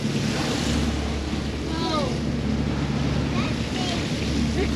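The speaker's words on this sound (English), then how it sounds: "Woohoo! Wow, look at these big waves coming." Big ocean swell and gusting wind batter a boat at sea, a loud continuous rush of surf and wind buffeting the microphone, with faint shouts breaking through now and then.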